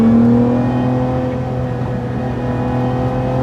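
A Lotus Emira sports car drives along a canyon road with a loud, steady engine hum and tonal drone that eases slightly after a strong start, sounding close and continuous from inside the cabin.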